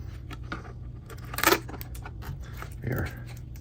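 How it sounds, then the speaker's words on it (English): Scissors pry packaging tape off a boxed Aftershokz AS650 bone-conduction headset during unboxing, giving faint scraping and a couple of brief crisp tape-lifting crackles over a low steady hum. "you can see I'm using some scissors here to pry the tape here up"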